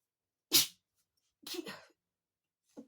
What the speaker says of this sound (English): I covered my nose when I sneezed.